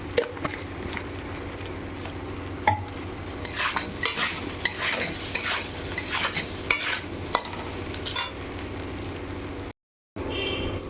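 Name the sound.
stirring fish curry with slit green chillies in a pan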